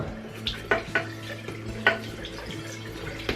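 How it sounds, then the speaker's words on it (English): Water from a tap rinses an ITG car air filter in a sink, with irregular splashes and knocks against the basin over a low running hum, fairly close and moderately quiet. "from here we're just going to rinse it from the inside out"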